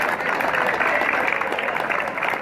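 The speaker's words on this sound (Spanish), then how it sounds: "vamos a darle un fuerte aplauso al señor Arturo Torres" A crowd claps for Arturo Torres at the opening ceremony of the Copa la Altagracia, a dense, steady wash of applause that holds at an even level throughout with no break.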